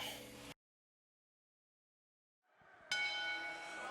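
A wrestling ring bell rings to start a match at a Southern States Wrestling event, a bright metallic ring cutting in sharply after a brief silence and sustaining loudly over crowd noise.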